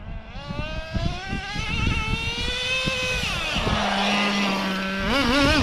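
Nitro RC car engine at a construction site bash, a loud buzzing whine that revs up, then drops as the throttle is released, settling into a lower steady tone before picking up again.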